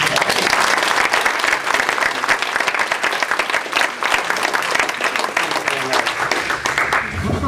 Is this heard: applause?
yes